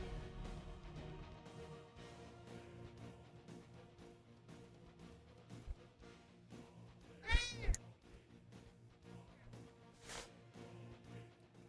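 A cat meows close by amid background music with harmonic tones, with a pronounced meow near the middle and another fainter one later.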